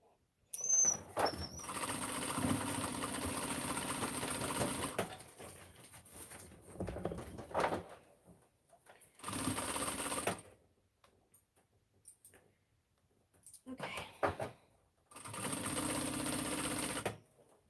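A sewing machine stitches a baby play pad in several rapid, steady bursts separated by pauses, with faint handling sounds in between.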